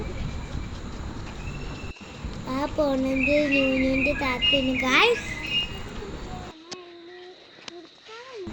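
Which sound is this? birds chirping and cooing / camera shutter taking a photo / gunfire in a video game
birds chirping and cooing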